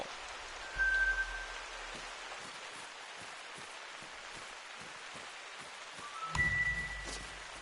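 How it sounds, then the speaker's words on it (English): Heavy rain pours steadily outdoors during a hunting outing, a dense, continuous hiss of drops with a couple of brief swells and tonal beeps over it. "And it's pouring down rain."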